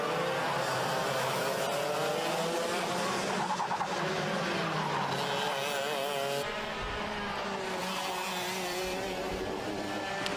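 Racing karts in an X30 Senior final at Whilton Mill roar continuously around the circuit, several engines layered with rising and falling pitch sweeps and brief tyre squeal, loud and sustained throughout.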